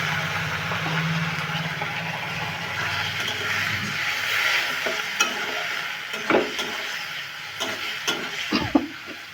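Water splashed into a hot pan of spiced fish curry with cumin powder, giving a steady hiss of sizzling frying with scraping stirs and a few clinks of a utensil near the end.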